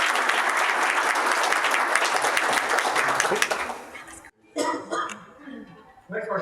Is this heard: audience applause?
yes